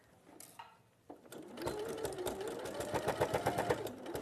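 A domestic sewing machine stitches a quarter-inch seam, starting with a few slow stitches and then running at a steady, fast, close-up rhythm.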